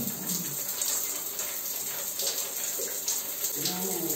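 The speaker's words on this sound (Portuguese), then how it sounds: "Então eu vou ligar o chuveiro e a gente deixa esquentar muito bem." A shower turned on in a bathroom, water running steadily with a dense hiss that stays even throughout, close and loud, with no talking.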